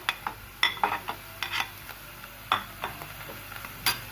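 Capsicum and tomato frying in a pan, a light sizzle under sharp intermittent spatula taps and scrapes against the metal, close by and fairly quiet.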